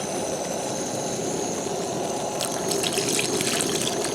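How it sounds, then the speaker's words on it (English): Water is added to a pot of thickening gravy, a steady pouring rush over a low rumbling background, with a brighter splashing burst toward the end. "I'm going to add a little bit more water to this right now."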